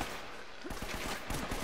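Gunfire in the video game Uncharted: Drake's Fortune, a rapid run of close automatic shots in the second half over a dense, steady background of game noise.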